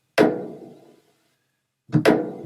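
Two sparse, punchy percussion hits from a minimal electronic track, each layered from several samples, strike alone with short decaying tails and silence between them.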